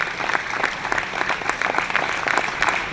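A live audience at a Mahabharat stage performance applauds the cast, with loud continuous clapping in uneven rhythmic surges, heard without talk.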